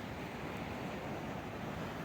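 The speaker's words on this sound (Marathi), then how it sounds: "पाणी असं वाहणारी जागा." Water flowing among the mountains on a green trekking route in Japan, a steady, distant broadband rush mixed with wind, even and unbroken throughout.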